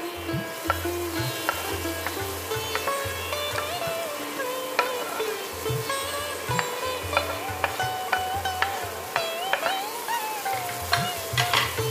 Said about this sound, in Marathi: कांदा आपला झालाय थोडासा परतून, म्हणजे जेणेकरून त्याचा कच्चा पण उडून गेलाय